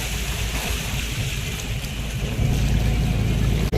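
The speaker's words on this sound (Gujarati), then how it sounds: "સ્ટીમર છે અત્યારે જાય છે કાંઠા બાજુ" A steamer boat moving toward the shore near a fishing harbour, heard as a steady low engine rumble with wash of water, continuous and fairly close, growing slightly louder toward the end.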